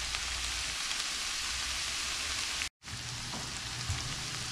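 Beef stroganoff with mushrooms simmers in a pan, giving a quiet, steady sizzle and bubbling hiss that carries on evenly, broken once by a brief dropout of near silence.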